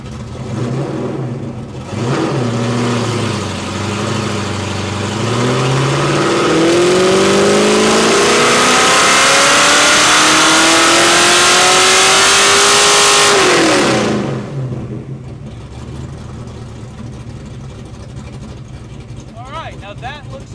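A Ford Mustang Foxbody engine on a dyno climbs through a long, loud rising rev from idle, holds a roaring peak near full throttle, then abruptly drops off and settles back to a lower idle.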